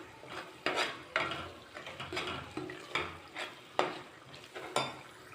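Goat head meat masala frying in a pan, heard as a steady sizzle broken by regular stirring scrapes and knocks of the spoon, close and fairly quiet.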